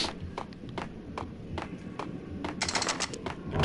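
Shotgun blasts from the video game Max Payne, a string of sharp, quick bangs over a steady noisy game background, moderately loud, with no talking.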